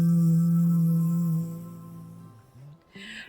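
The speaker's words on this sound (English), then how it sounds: "And when you are exhaling, make a humming sound like this." A single sustained nasal hum during the exhale of Bhramari pranayam breathing, close and steady, fading out after about two seconds, followed by a soft breath.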